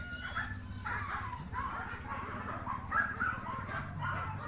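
Labrador puppies yip, bark and whimper in a continuous busy chorus over a low steady hum, with a voice faintly audible in the background.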